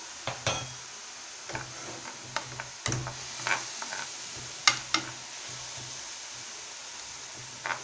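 Potato bourek filling frying in a pan, with a soft steady sizzle under intermittent clicks and scrapes of a utensil stirring against the pan, close by and with no talking.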